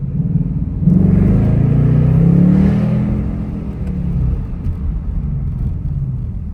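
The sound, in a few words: 2025 Mustang GT engine accelerating at night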